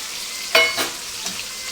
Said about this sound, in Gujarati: થોડી ગ્રેવી નાખી અને પછી વટાણા નાખી દેવાનું